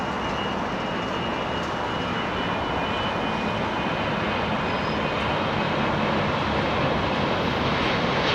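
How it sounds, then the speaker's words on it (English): Etihad Airbus A380 jet at London Heathrow, a loud, continuous broadband roar of jet engines on the southern runway, steady and dense throughout with no talk. "So our jet is confirmed on the southern runway"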